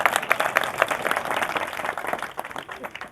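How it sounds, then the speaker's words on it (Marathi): A crowd at a religious discourse claps in a lively, uneven burst, with sharp individual hand claps near the front and the applause slowly easing off. "टाळ्या वाजवा"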